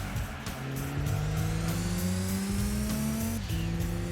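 Race cars accelerate in the Gran Turismo 2 video game, several engines whining and rising in pitch together with overlapping revs, a tire squeal and a gear change, loud and close.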